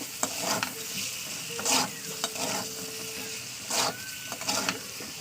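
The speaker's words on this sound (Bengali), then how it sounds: "এই তেলের সঙ্গে কষে নিতে হবে" Egg and potatoes stir-fried in oil in a pan, a steady sizzle with repeated scraping strokes of a spatula and a few louder clatters, close up.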